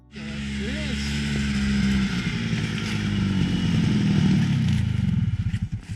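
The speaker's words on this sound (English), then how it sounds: "Is that the proper way to ride a snowmobile?" A snowmobile engine drones loudly nearby as it rides past on a trail, holding a steady pitch before fading with a slight stutter, while people talk over the engine.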